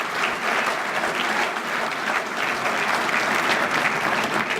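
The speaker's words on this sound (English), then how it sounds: "let's give the DoubleTree and the staff a round of applause for a great service" An audience at a chamber of commerce annual meeting applauds hotel staff, a dense, steady round of clapping from many hands lasting throughout.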